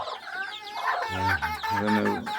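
Chickens cluck close by in a busy, overlapping run of throaty calls, with a few sharper notes rising over the steady clucking.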